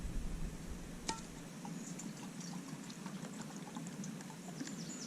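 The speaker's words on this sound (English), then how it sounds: "So we'll put more than enough water in there." Water pours into a small lidded camping cup at an outdoor cold-weather campsite, a faint steady trickling under quiet background hiss with a single clink near the start.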